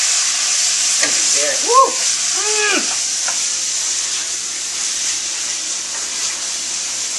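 Red wine is poured over browning beef in a hot pan for stew, giving a loud, steady hissing sizzle that runs throughout, while a voice briefly exclaims over it.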